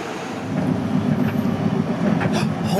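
A Toronto train arrives at Lawrence East station, its rumble and wheel clatter swelling after a brief quiet start and holding steady at moderate loudness.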